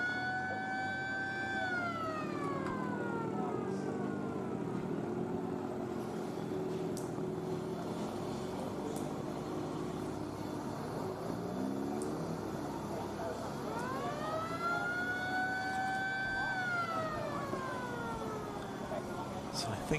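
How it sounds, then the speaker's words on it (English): A pit lane air horn at Oulton Park sounds as a Honda race car enters, giving two rising-and-falling tonal blasts, early and late, over a steady roar of race engines and commentary. "what you might be able to hear there is the little air horn that goes off when a car enters the pit lane"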